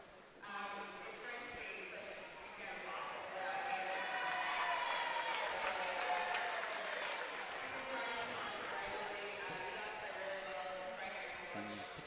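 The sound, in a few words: crowd giving sarcastic cheers at a basketball grand final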